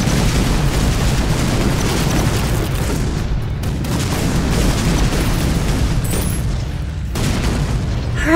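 A loud, sustained rumbling blast from the Daddy Longlegs weapon in the artillery game ShellShock Live, a broad roaring boom that holds across the stretch with a few sharper bursts, no voices.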